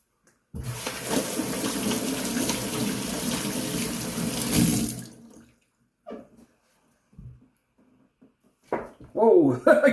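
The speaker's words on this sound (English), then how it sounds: "Let me rinse out the brush." A shaving brush rinsed under a running tap, a loud steady gush of water for about four seconds that then stops, followed by brief clinks, small knocks and a short burst of voice near the end.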